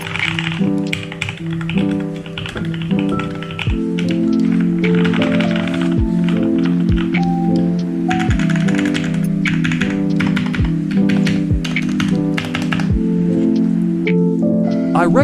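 Steady, fast typing on a modded 60% mechanical keyboard, close and loud, with dense clacky keystrokes and occasional heavier thock-like presses throughout.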